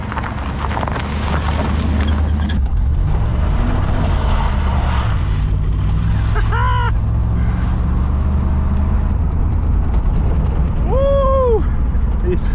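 A barn-find Chevrolet Camaro IROC-Z with a 305 engine, left sitting since the 1990s, drives with a loud, close engine drone that rises and settles as it pulls. Sharp squealing chirps cut in twice.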